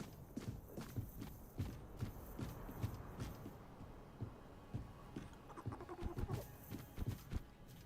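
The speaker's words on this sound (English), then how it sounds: "The little guy's footsteps are really, really heavy and loud." Heavy, loud footsteps of a small character in the fantasy game Tainted Grail: The Fall of Avalon, a steady thudding stride with clip-clop-like impacts repeating under ambient game sound.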